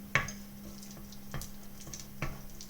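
A wooden spoon stirring chocolate cake batter in a bowl, with a few soft scattered knocks and scrapes against the bowl over a low steady hum, close and quiet, without talk.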